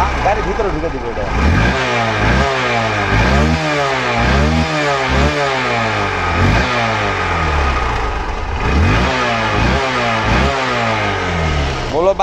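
A Hero Hunk motorcycle revved hard close up, the engine note climbing and dropping again and again in quick throttle blips that run loud and steady for the whole clip.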